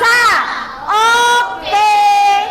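A class of schoolchildren, class 6D, doing spirited chant yells together in a classroom: three loud, drawn-out shouted calls in unison with short pauses between them. No clapping stands out.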